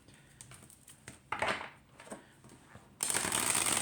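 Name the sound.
bridge shuffling oracle cards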